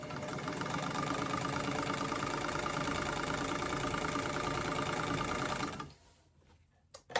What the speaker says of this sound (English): I'm really enjoying sewing on this machine.